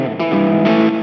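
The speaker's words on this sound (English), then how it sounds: "have a nice SDE 3000 delay, which is perfect for leads or for the 80s hair metal" Electric guitar with volume cranked and coil tap off, played through a Boss SDE-3000 delay preset for leads: loud, driven sustained lead notes shift pitch twice and are smeared by delay, with no talking.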